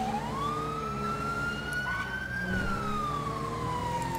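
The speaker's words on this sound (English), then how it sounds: "it's lights and sirens!" A police car siren in the video game GTA V with the LSPDFR mod, a clear rising and falling wail sweeping slowly over a low engine rumble, moderately loud and uninterrupted.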